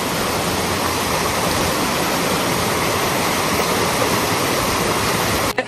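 Thalakona waterfall pours with a loud, constant rush of water that fills the whole clip without pause, close by and unbroken, until it cuts off abruptly at the very end.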